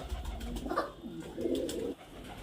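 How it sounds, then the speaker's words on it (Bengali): A male pigeon, one of the Giribaz or Kalshira breeds, coos close by in a few soft throaty rolling phrases, quiet and alone. "একটা ছাতি নর পায়রা আছে খুব সুন্দর কোয়ালিটির পায়রা"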